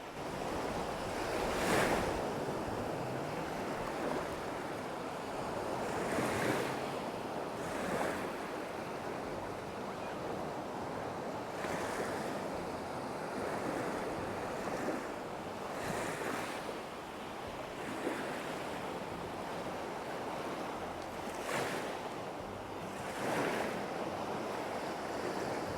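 Ocean surf rolls onto Haeundae Beach in Busan, South Korea, with waves breaking every few seconds in steady washes over a constant roar of wind buffeting the microphone, and no voices.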